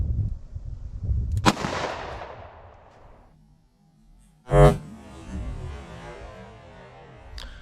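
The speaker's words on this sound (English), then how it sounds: "let's take the first shot. We're going to use the J-frame first." A .38 Special J-frame revolver fires Buffalo Bore 158-grain +P lead semi-wadcutter hollow points into clear ballistics gel outdoors, two sharp loud shots about three seconds apart, each followed by a rolling echo that fades.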